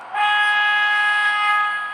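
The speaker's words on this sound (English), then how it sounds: "Here's the horn" A steady, tonal horn from an MTH R32 model subway train set blares for nearly two seconds, loud and close, then fades slightly at the end.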